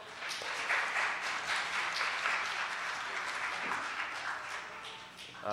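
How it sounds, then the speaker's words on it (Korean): Congregation applauding at a church youth-group worship service, sustained dense clapping from a room of people, fairly even and unbroken for several seconds before fading slightly at the end. "박수 한번 쳐주세요."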